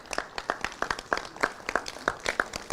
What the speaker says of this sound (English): Please, I especially want you to clap for these presenters.